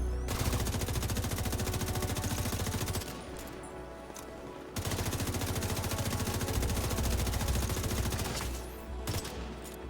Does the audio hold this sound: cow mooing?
no